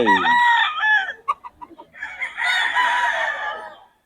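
Raptor Sweater gamefowl roosters at a farm in Bocaue: a loud, close crow opens, followed by a run of short clucks and then another long crow.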